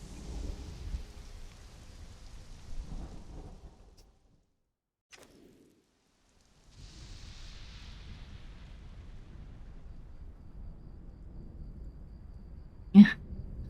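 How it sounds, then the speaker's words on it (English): Rain and low thunder in a jungle in Conan Exiles, a dull rumbling wash that drops to near silence mid-way, then resumes steadily, ending in a sharp brief crack. "It's raining in the jungle."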